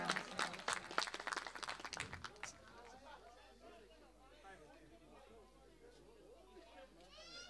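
Applause from guests at a wedding engagement party in Medgidia: a burst of loud, dense clapping for about two and a half seconds that fades into the murmur of crowd chatter and talking.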